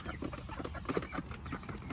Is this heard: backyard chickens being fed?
yes